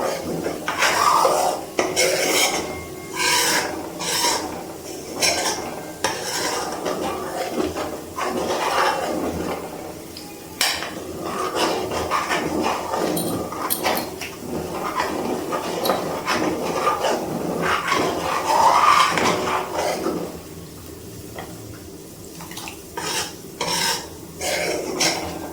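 Milk cream simmered into ghee in a pan is stirred and scraped from the bottom: close, repeated metallic scrapes and clatters of a spoon against the pan, irregular and continuous.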